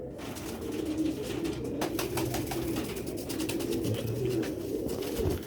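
A genuine Sialkoti old-breed female quail calls in quick, repeated soft notes, close and steady, over a noisy background.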